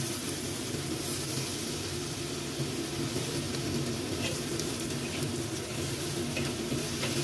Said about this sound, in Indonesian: Tambahkan langsung daging sapinya ya teman-teman.